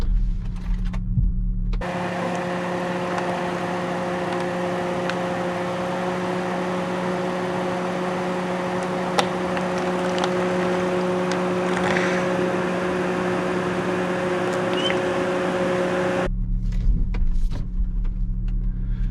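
A Land Rover Defender 110 P400 with a 37-degree tilt drives down off a steep incline, its engine giving a steady, loud droning hum that holds throughout, with brief quieter moments at the start and end.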